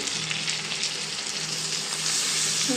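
Prawns for a biryani curry fry in a pan with a dense, even sizzle that holds steady and close for a few seconds, with no talking.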